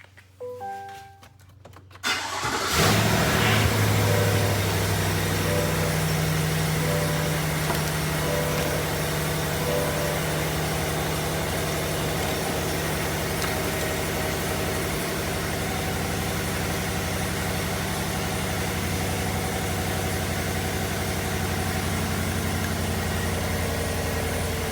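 A truck engine cranks over and catches after a quiet start, then settles into a steady, loud, close idle with a constant low drone and mechanical hum lasting to the end.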